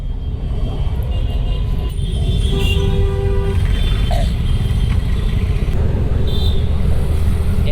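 Dense Bangalore road traffic surrounds a motorcycle, with a steady roar of engines and several car and bike horns tooting at intervals, some short and some held, near and far.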